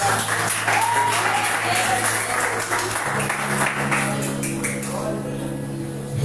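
A church congregation at a Pentecostal Sunday service applauds steadily throughout, a dense wash of clapping with shouts and a voice over it.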